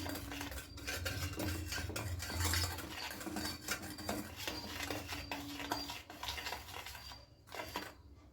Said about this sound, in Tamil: நல்லா ஓரங்கள் எல்லாம் எடுத்து விட்டுட்டு நல்லா மிக்ஸ் பண்ணிக்கோங்க